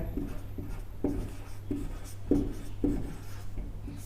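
Pen strokes write a word by hand on paper, a steady series of soft scratchy bursts roughly every half second, close and alone with a low hum underneath.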